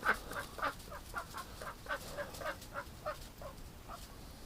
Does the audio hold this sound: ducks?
yes